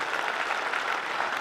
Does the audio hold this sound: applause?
yes